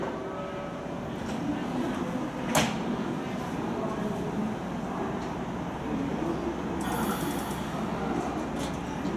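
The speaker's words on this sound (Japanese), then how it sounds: "ドアが閉まります。" Doors on a JR West 323 series train close at Osaka station on the Osaka Loop Line. A sharp clunk and a later burst of chime-like noise sit within a constant platform and train rumble, with spoken announcements over it.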